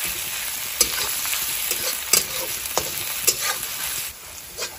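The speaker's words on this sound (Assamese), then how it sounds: "প্ৰথমতে আপোনালোকে নহৰু দি পেলাই অকণমান ভাজিব" Onions and garlic paste fry in a hot pan with a steady, close sizzle. A spoon scrapes and stirs now and then, with no talking.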